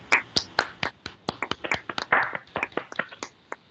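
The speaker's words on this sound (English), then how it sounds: "let's thank the speaker. Let's give him a round of applause." A few people clapping for a guest speaker at the close of an online technical talk, sparse and uneven hand claps, crisp and close, lasting several seconds with nothing else under them.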